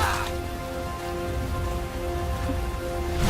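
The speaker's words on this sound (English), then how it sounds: "There's a lot of rain." Steady heavy rain falls in the video game Metal Gear Solid Peace Walker, a dense continuous hiss of drops on surfaces alone without voices, with a faint tonal hum underneath.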